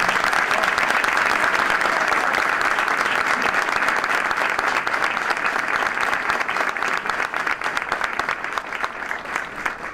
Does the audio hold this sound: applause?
yes